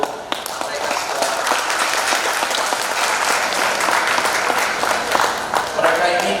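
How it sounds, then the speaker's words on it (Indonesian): An indoor audience breaks into sustained applause, a dense wash of clapping lasting several seconds with a few louder individual claps near the end. "Kita berikan tepuk tangan untuk mereka semua."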